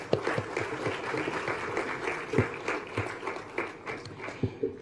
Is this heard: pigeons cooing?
no